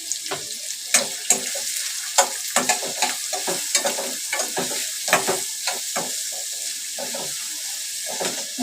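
Chopped onion sizzles in hot oil in a pan for a Marathi methi bhaji, with a steady frying hiss broken by repeated scraping stirs of a spoon, close and clear with no talking.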